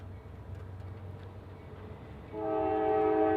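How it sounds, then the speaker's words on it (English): Low rumbling of an approaching train in Stockbridge, Georgia, moving at slow speed, then a loud, sustained multi-tone horn blares for the final second or so. "Got a train coming through the area."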